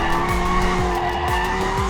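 Lamborghini hybrid twin-turbo V8 in drift mode, tires skidding and squealing continuously for two seconds over a loud, steady engine drone with rhythmic gear-like pulses, close and alone.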